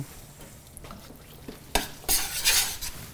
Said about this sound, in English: A little bit of fresh lemon juice if you want to stir that for me